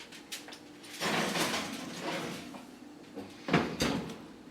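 An oven door is opened and shut as a gluten-free buffalo chicken Cheetos mac and cheese goes in, with a soft clunk followed later by a firmer thud, both fairly quiet and with no talk.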